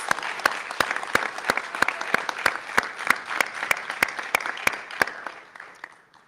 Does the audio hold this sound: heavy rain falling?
no